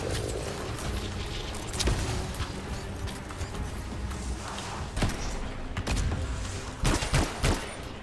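Gunfire in the action game Bastion, a string of sharp bursts and thuds scattered over a dense, busy game soundscape, with several louder shots clustered toward the end.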